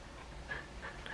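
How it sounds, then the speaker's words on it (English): A dog whimpers softly indoors in two or three short, high, nasal whines over a quiet background hum, with no talking. "My dog is being such a pain in the butt right now."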